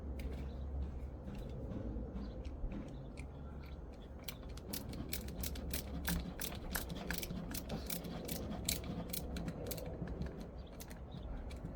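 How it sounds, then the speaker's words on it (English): A kit screw is driven in while a factory tow hitch is installed on a 2020-2026 Toyota Highlander. Rapid ratchet clicks run steadily over a low background hum, close by and with no talking. "you see a hole right here to put that screw that came with the kit. So we'll go ahead and install that right now."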